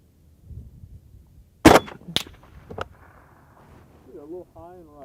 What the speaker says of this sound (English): let's pelt it with a couple of rounds of M80.